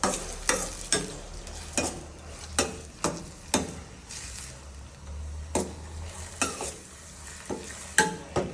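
Four tomatoes with salt frying in a pan for tomato gojju, a soft sizzle under a steady run of sharp spoon knocks and scrapes against the pan, roughly one or two per second.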